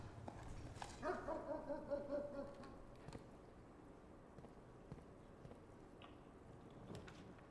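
A dog in the video game Blue Prince gives a short series of yips and whimpers as it is petted, moderately loud over a soft ambient game backdrop, then falls quiet.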